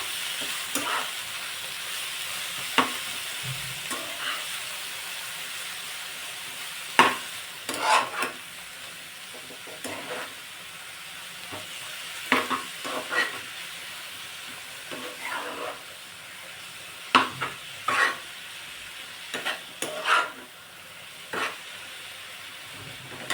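Dill greens sautéing in oil in a pan: soft continuous sizzle punctuated by repeated sharp scraping clacks of a spatula stirring, close up, with no talking.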